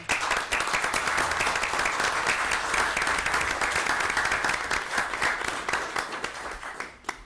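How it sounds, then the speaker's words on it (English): A city council meeting audience applauds guests standing in the room, a dense, steady wash of clapping that holds for about six seconds before tapering off. "just stand in a little round of applause"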